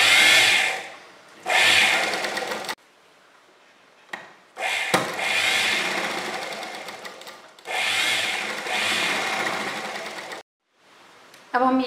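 A sewing machine stitches fabric folded over canvas for a kurti, running in several long, steady bursts of close motor whirring separated by short pauses, with no talking.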